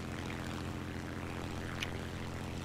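A P-36 propeller fighter plane engine in a flight video game drones steadily in cockpit view, a constant loud broadband roar with no speech.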